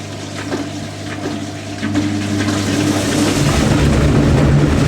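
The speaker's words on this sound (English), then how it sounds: "Another spin rinse." A Zanussi TJS1397W Jetsystem Excel top-loading washing machine runs a spin rinse. Water rushes and a steady pump-and-motor hum builds and grows louder over several seconds, close up, with no voices.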